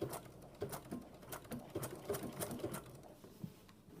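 A sewing machine stitches applique close along a fabric edge, its needle thumping in a quick, slightly uneven patter, near and fairly soft.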